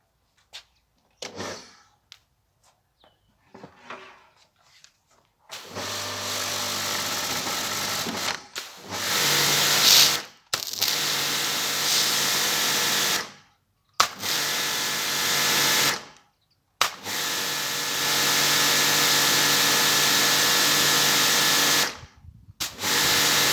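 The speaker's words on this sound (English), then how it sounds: "Now I'll show you how the Karcher machine works." A Karcher pressure washer engine runs in loud, steady, broadband bursts that stop and restart several times, with short quiet gaps between them after a few faint clicks.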